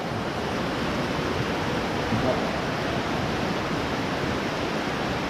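Heavy rain pours while floodwater rushes along, a dense, continuous roar of water that stays loud and steady throughout without voices.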